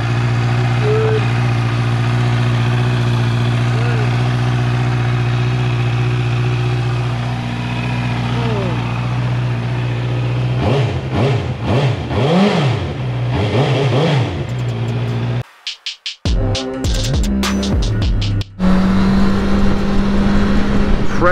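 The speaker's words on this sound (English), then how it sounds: "fresh off that oil change, first ride, and the bike is already feeling so much better" A Honda CB650R motorcycle engine, freshly serviced with an oil change, idles steadily and then revs in several rising bursts before a brief dropout and a return to a loud running engine.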